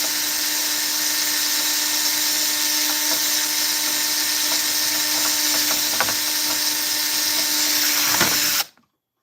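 A power drill spinning a fishing reel whirs steadily at high pitch with small rattling catches as the reel sticks, then cuts off abruptly near the end, leaving silence.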